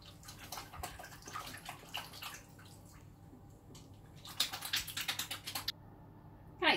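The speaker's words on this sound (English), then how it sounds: "I'm gonna quickly wash my hands because I've had the meat on it" Hands are washed under a running kitchen tap after handling raw burger meat. Water splashes and patters close by, with scrubbing and brief bursts of heavier flow.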